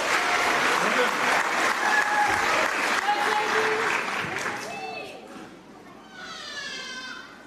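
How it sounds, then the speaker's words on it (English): An audience at a Samoan dance school's tenth anniversary show gives a round of applause, dense clapping and cheers that fade after several seconds, followed by children's voices and chatter. "Round of applause."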